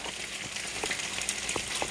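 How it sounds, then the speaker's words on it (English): Chicken frying in hot oil makes a steady, close sizzle with small crackles and pops throughout, and no one talks. "So when the frying noise starts"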